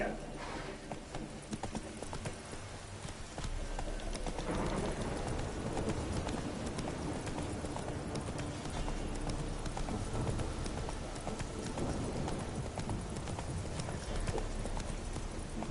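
Steady clip-clop of a horse galloping in the Witcher 3 video game, continuous hoofbeats over a busy game soundscape, with a voice urging the horse on briefly.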